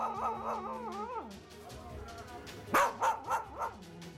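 A 13-year-old English Cocker Spaniel gives a long, wavering howl, then after a pause lets out four quick, loud barks in a row, close to the listener.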